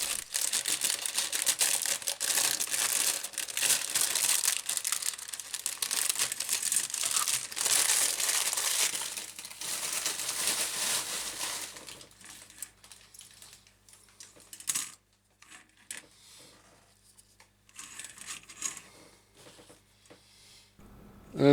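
Plastic packaging crinkling loudly and continuously up close while screws are unpacked from a 1/144 scale Gundam model kit, then quieter rustles and small clicks, no voices.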